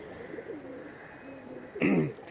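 A pigeon coos softly in low, rolling phrases nearby, followed by a sharper, louder burst near the end.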